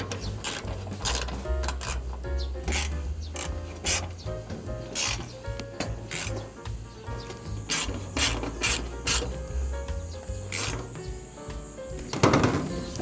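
A hand ratchet tightens an Allen bolt on a solar panel mounting railing, producing repeated sharp metallic clicks in quick bursts, close and clear, with a louder clatter near the end.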